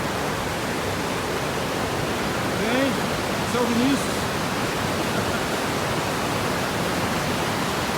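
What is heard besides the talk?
waterfall in Cristina, Minas Gerais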